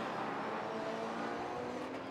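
BMW and Porsche race cars battle on track in an Asia Le Mans Sprint Cup race, their engines a steady, distant roar with no distinct pass-by.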